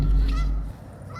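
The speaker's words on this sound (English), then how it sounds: "I'm trying to film you filming the geese" Goose giving a single loud, close honk outdoors, a brief harsh call that fades into low background noise.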